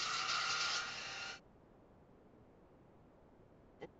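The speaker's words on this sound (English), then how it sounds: "Let's grab our little vacuum." A small handheld vacuum whirs with a loud, steady hiss for about a second and a half, then cuts off, leaving near silence and a faint click.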